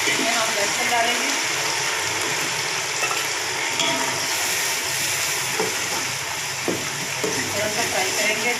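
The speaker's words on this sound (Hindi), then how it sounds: "इसमें हम लहसुन डालेंगे।" Garlic frying in a pot of browned onions for Kabuli pulao gives a close, steady sizzle with stirring scrapes and bubbling running throughout.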